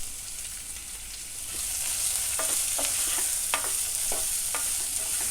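Green chillies and chopped ginger frying in oil for a vegetable stew with coconut milk, a faint steady sizzle that grows louder, with several sharp spatula taps and stirring clinks, no talking.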